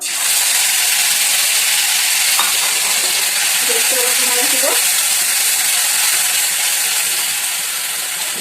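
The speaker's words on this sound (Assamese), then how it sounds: "ইয়াতে কেৰাহীত অলপ তেল গৰম হ'ব দিছিলোঁ। তাৰপিছত এইখিনি ভাজিব লাগিব।" Loud, steady sizzling of ground paste frying in hot oil in a kadai, a constant crackling hiss close by with a faint clink partway through.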